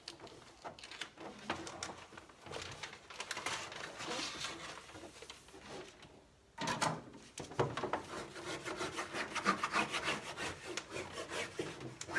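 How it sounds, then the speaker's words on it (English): A ruler rubs and scrapes over adhesive contact paper on a bar cabinet to push out air bubbles, a close, continuous dry rasping with short strokes and a brief pause partway through. "So I'm using a ruler to kind of like push out all the air bubbles as I work my way down."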